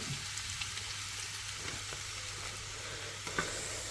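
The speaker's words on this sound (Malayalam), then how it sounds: "അതിനകത്തോട്ട് നമ്മൾ അരിഞ്ഞ് വെച്ചിരിക്കുന്ന സവോള ചേർത്തു" Chopped onions sizzling in fat in a pan for a boti fry, a soft, even hiss that holds steady throughout, with a couple of faint clicks near the end.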